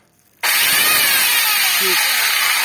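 A homemade electric saw for cutting small branches switches on abruptly and then runs with a loud, steady, close whine that holds constant to the end.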